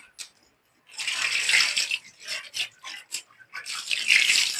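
Tap water pours in bursts onto a pumpkin being washed in a kitchen, splashing and running in several uneven spurts with brief pauses between them, close and fairly loud.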